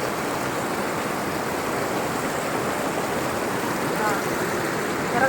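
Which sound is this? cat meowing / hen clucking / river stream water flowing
river stream water flowing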